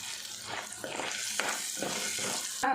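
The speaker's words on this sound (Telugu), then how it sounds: "పప్పులు ఇట్లా మంచిగా వేగనివ్వాలి" Lentils crackle and sizzle as they fry in oil in a pan for a gongura pickle tempering, with a few stirring scrapes and light clinks; no talking.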